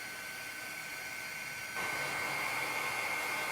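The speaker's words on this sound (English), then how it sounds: "When you heat gun something like this, you're kind of drying it from the wrong spot." A heat gun drying paint on a mixed-media art journal page makes a steady, close blowing roar that grows slightly louder and brighter partway through and never pauses.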